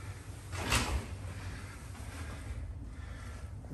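A small door is opened or closed with one quick scraping clunk early on, followed by a steady, fairly quiet background rumble.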